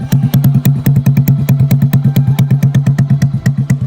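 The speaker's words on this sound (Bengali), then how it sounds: "মোটিফাই বাইক খানের সাইলেন্সারের সাউন্ডে তোমরা শুনলে" A modified motorcycle with an altered exhaust silencer runs close by, loud and punchy, with rapid, evenly spaced exhaust thumps beating steadily throughout.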